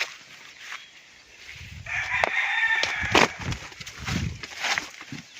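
A chicken near a tilapia fish pond clucks and squawks in a few close, bright bursts over faint outdoor background, without speech.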